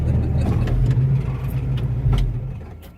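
A restored 1967 Chevrolet Camaro convertible's engine rumbles steadily at close range as it drives, with faint knocks and creaks from the rear shocks over a low road drone.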